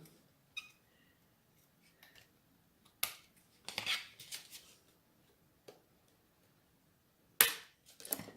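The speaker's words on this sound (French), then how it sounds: "Là, j'ai un petit bout qui dépasse, je vais le couper." Scissors snip off a small protruding piece of paper on a handmade mini envelope, a few sharp isolated cuts and rustles spaced out over quiet moments.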